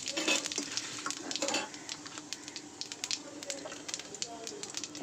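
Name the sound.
whole white cumin seeds sizzling in hot oil in a wok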